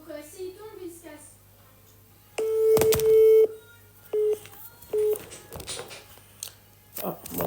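After a short stretch of talk, a phone call rings out unanswered in a few separate electronic ringing tones, with quiet voices between them.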